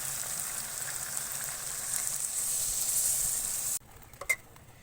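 Hot water hits a pan of fried chicken curry and sizzles with a loud, steady hiss that cuts off abruptly, followed by a few faint clinks.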